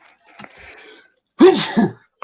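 A single sharp sneeze bursts out after a quiet breath, close and loud, followed by a short murmur.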